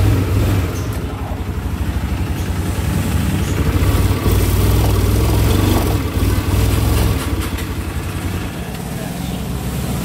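An old Vespa scooter engine runs steadily and close, a loud continuous mid-pitched putter with slight swells in level and no talk over it.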